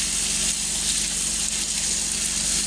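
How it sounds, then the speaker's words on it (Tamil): Onion and tomato sautéing in a pan for a dried anchovy stir-fry: a steady, even sizzle and hiss with no talk, continuous and fairly loud throughout. "தக்காளி நல்லா போட்டு வதக்கிடுங்க"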